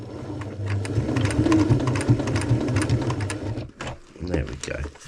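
A sewing machine back-stitches a seam repair on a Panacea 2 tent, running as a steady close mechanical whir for several seconds before stopping, with a voice talking over it.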